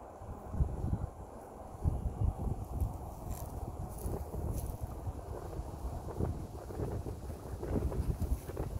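Wind blows outdoors among spring blossoms, giving gusty low buffeting on the microphone with uneven surges, fairly faint and with no talking.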